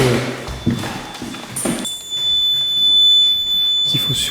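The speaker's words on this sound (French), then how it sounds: "C'est des alarmes incendie." A fire alarm in an abandoned building emits a steady high-pitched electronic tone, preceded by footsteps and rustling, with the tone continuing loud and unbroken for the last couple of seconds.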